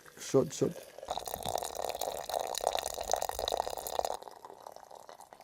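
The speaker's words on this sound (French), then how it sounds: "Nous allons mettre ça dans un petit récipient là pour verser là-dessus de l'eau" Hot water poured from a container over herbs to make tea, a steady running pour lasting a few seconds before stopping, with a voice briefly at the start.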